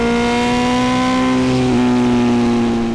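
A 2023 BMW S1000RR with full titanium headers and an SC Project slip-on revs loudly and steadily up close, a deep droning exhaust note that rises slightly in pitch.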